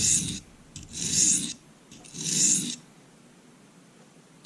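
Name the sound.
knife sharpening freehand on coarse side of Norton crystalline oilstone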